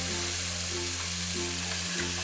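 Pork chops sizzle inside an Aukey 5.8-quart air fryer, a steady close hiss and crackle over the appliance's constant fan hum, with no talking.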